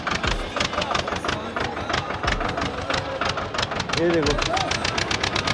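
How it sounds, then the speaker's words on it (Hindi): Tractor engine hauling goods uphill at Kedarnath, a close, loud, rhythmic knocking chug that repeats steadily throughout, with a voice speaking briefly over it. "केदारनाथ में कैसे चढ़ाई पे सामान चढ़ाया जा रहा है ट्रैक्टर से"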